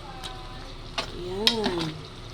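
Cabbage being stirred in a soup pot, a few soft scrapes and clinks of a ladle against the pot over a low background, close and brief.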